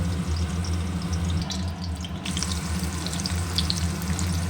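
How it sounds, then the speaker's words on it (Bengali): Potatoes frying in oil in a pan, a steady close sizzle with crackling pops running throughout without a break. "আলুগুলো ভাজা হচ্ছে আলুগুলো ভালো করে ভাজা হোক"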